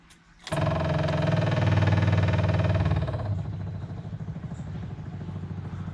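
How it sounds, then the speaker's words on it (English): A pump on a Jaguar MKII switches on with a sudden onset and runs steadily with a buzzing, clattering mechanical hum, loud at first and then settling slightly lower, with no talk over it. "I hear the pump. It's still pumping."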